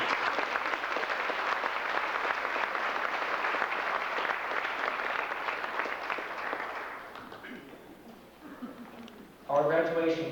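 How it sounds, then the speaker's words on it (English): A crowd at a cadet corps graduation ceremony applauds, with steady, dense clapping from many people that fades out after about seven seconds before a person begins speaking. "Could we have a round of applause"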